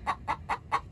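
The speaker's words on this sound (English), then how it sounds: "Even though they're girl chickens, these are not roosters, they still make quite a racket" An Easter Egger hen on an urban farm clucks loudly after laying an egg, giving five evenly spaced, close, nasal squawks in a steady rhythm.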